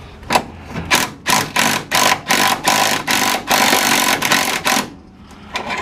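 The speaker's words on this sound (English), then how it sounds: "And now we'll put our impact gun on there." A Harbor Freight-style impact gun hammers at a seized rear suspension bolt on a 1997 Honda Civic, firing in a loud, rapid series of short rattling bursts close by.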